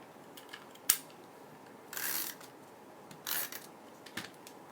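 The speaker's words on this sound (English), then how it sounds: "I'm just going to use a little tape runner there to attach that" A small tape runner lays adhesive to attach a papercraft piece to a card, making a few short, soft rasping strokes with faint clicks against a quiet room.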